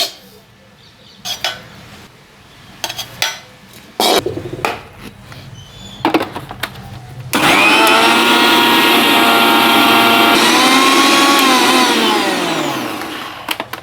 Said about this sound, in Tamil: இப்போ வந்து நாங்கள் வறுத்து வச்ச தேங்காய் பூவையும் நாங்கள் அடிச்செடுக்கணும்